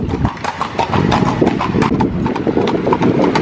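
Horse hooves clip-clop steadily and fairly close as a horse pulls a carriage through the streets of Marrakesh, with a continuous rattle and street noise underneath.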